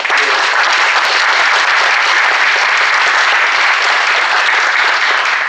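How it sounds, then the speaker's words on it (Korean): Audience applause at a political party meeting, dense and sustained at full volume throughout, with no voices over it. "그분들께 꼭 박수를 한번 쳐주세요."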